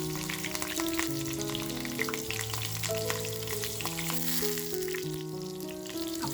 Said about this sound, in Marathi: तेल बघा तापलं की लगेचच आपल्याला काळी मिरी, लवंग, काळी मिरी, दालचिनी, तेजपत्ता आणि हिरवी मिरची टाकली आहे.